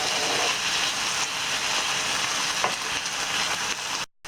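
Chicken pieces fry in a pan and are stirred with added spices, giving a continuous close sizzle with faint scraping from the stirring, then a sudden brief cutoff near the end.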